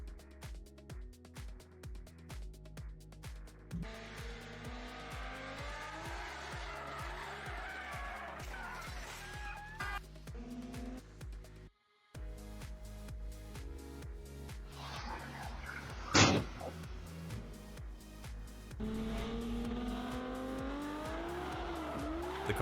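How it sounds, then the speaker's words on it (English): Car tires squeal and skid after a rear-end collision with a container truck, engine revving and rhythmic rumbling, a sharp burst of high screeching midway, fairly faint overall and without talk. "The car skidded, but luckily the driver was okay."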